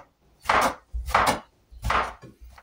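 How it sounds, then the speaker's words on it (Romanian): Knife chopping eggplant into pieces on a cutting board, after the zucchini: four steady, close, crisp knife strikes at an even rhythm, with no talk. "Și vânăta o să o tăiem tot așa, exact ca și dovlecelul."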